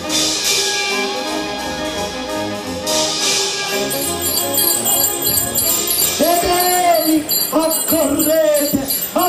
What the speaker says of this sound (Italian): Accorrete, accorrete, non siate sordi al richiamo delle campane